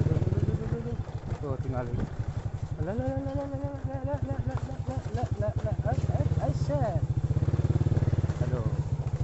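A motorcycle engine chugs and revs steadily while climbing a steep, rough dirt footpath toward Conggeang, Sumedang, loud and close throughout, with people talking over the engine noise.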